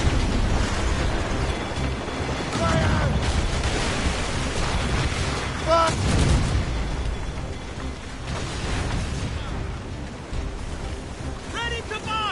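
Cannon fire during a naval battle in Assassin's Creed Rogue, heavy booming blasts rolling over a dense, noisy din of battle and sea, with shouting voices mixed throughout.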